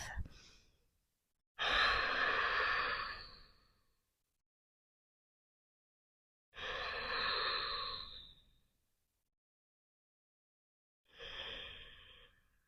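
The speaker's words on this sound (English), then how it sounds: "3 rounds of Ujjayi breath." Three long, steady breaths in Ujjayi style during a supine twist in a yoga class, each a rushing, throaty exhale of a few seconds, close and alone, separated by quiet pauses.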